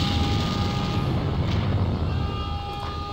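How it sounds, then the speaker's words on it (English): A low, steady rumbling drone of a helicopter nearby inside the Deus Ex video game, constant and fairly loud throughout under a wash of background noise, with no talking. "Sounds like there's a helicopter nearby."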